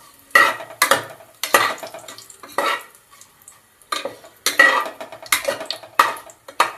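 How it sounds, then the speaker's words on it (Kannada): Pineapple pieces and cinnamon stir-fried in a pan over a medium flame, with repeated bursts of scraping and sizzling from a spatula in an irregular rhythm and short quiet gaps between strokes. "ಮೀಡಿಯಮ್ ಉರಿನಲ್ಲಿ ಫ್ರೈ ಮಾಡ್ಕೋಬೇಕು ಈ ಥರ"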